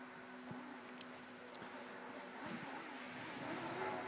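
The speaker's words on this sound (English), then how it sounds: "you can hear both engines revving there" Engines of two autograss racing cars rev at a British Autograss Series meeting, a distant droning hum that rises and swells toward the end over open outdoor background noise.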